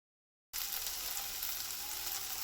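Onion and tomato sautéing in a pan for a curry, a steady close bright sizzle that starts abruptly after a short silence and holds evenly, with no talk.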